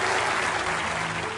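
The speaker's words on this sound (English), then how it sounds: "Give them a round of applause." Studio audience applause on a television quiz show, a steady, dense wash of clapping that stays loud and even from start to finish with no voices over it.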